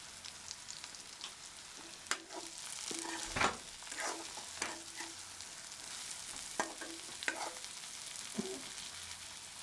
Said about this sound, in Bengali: এখন দিয়ে দিচ্ছি 5 ফোড়ন, দিয়ে দিচ্ছি জিরে মরিচ গুঁড়ো